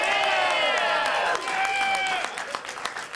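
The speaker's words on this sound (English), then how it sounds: "he would have been really depressed to hear that uneven amount of applause just now" A cinema audience applauds unevenly, with sparse, ragged clapping that carries on under music and starts to thin out toward the end.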